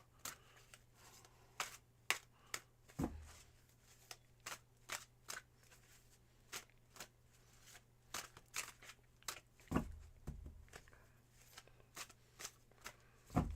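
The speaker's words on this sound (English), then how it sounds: "while I finish shuffling the deck and getting them all cleared for you" A deck of playing cards being shuffled gives quiet, scattered riffling clicks and snaps in irregular bursts, close up with no talk.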